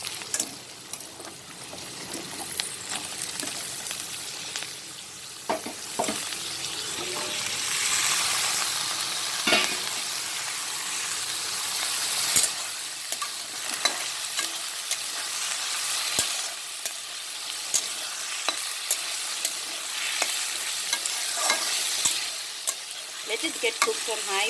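Cubed potatoes stir-frying on high flame, giving a dense, continuous loud sizzle with frequent clinks and scrapes of a spatula running throughout.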